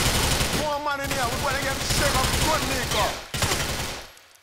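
Rapid gunfire from a pistol and an Uzi in Grand Theft Auto IV, with loud close bursts over the in-game action and a sharp final shot before the sound cuts off.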